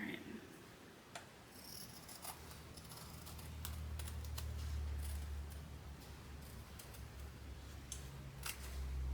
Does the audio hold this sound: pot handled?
no